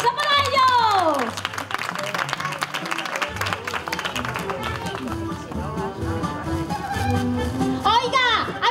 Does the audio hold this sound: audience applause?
yes